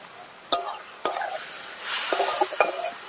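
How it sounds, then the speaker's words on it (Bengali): Mutton with salt, turmeric and coriander powder being stir-fried in a pan, a low sizzle under a few sharp clanks of a spatula on metal and bursts of scraping as the meat is turned, close by, no talking. "সব কিছু দিয়ে এবার ভালো করে একটু কষিয়ে নিতে হবে"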